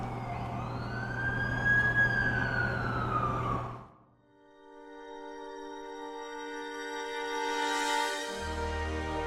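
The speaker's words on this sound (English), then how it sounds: "That's the ambulance I called." An ambulance siren in The Amazing Spider-Man 2 video game wails loudly and steadily, with rising and falling tones. It drops to silence midway and then returns as a different, brighter siren with a low rumble near the end.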